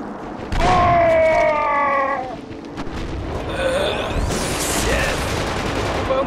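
Loud, sustained volleys of gunfire from the 2009 shooter Killzone 2 fill most of the stretch, dense and close, with other game sounds layered on top.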